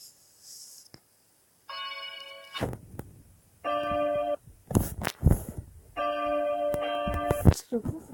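A small chiming bell in the video game Block Craft 3D rings the hours on the note D4, sounding three bright, resonant chime phrases separated by soft thumps and brief pauses.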